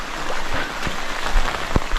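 Rain pours down outdoors during a spearfishing trip, a close, steady hiss of falling water broken by scattered heavier drops and taps on nearby surfaces.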